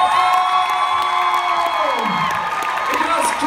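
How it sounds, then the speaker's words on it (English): A big crowd at a pole dance championship award ceremony cheers and whoops loudly and continuously, with shouts rising over a steady roar, and applause mixed in underneath. "can I have one more big applause for them?"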